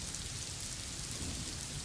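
Heavy monsoon downpour in Mumbai, a thick, unbroken roar of rain close by and fairly loud, with no talking.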